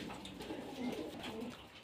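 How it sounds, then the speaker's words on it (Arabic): Domestic pigeons coo softly and continuously in a quiet loft, a low, steady murmur of overlapping calls with no voices. "دلوقتي كمان معانا حمام جمعيه يا جماعه اهو"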